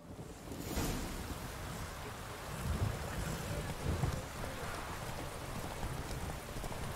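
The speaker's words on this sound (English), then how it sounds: "Hard to see when it's raining." Steady rain pours down in The Witcher 3: Wild Hunt, a dense wash of noise with scattered heavier patter and a few thumping hoofbeat-like pulses, loud and continuous throughout.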